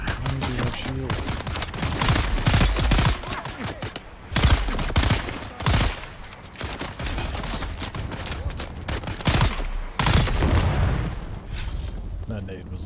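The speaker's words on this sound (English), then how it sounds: "That nade was a little jarring." Grenade blasts and rapid gunfire in the video game Dune: Awakening, several loud booming bursts with crackling fire between them, with a voice talking at times.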